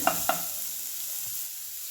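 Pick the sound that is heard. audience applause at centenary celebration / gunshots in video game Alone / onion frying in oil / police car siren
onion frying in oil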